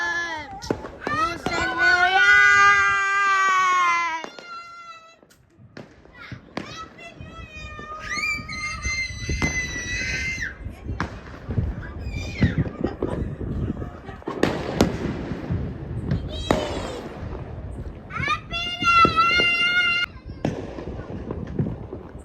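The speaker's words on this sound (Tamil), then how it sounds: "எங்க பார்த்தாலும் ஸ்கை ஷாட்ஸா, அன்பிலீவபிள்." Sharp aerial sky-shot firework bangs and crackling pops burst repeatedly across the scene at New Year, mixed with excited children's voices and shouting throughout.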